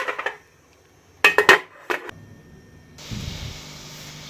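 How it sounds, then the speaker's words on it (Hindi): A few sharp metallic clanks of a pressure cooker lid being fitted and locked on, followed by a steady low hiss in a quiet kitchen. "अब प्रेशर कुकर को हम बंद करते हैं।"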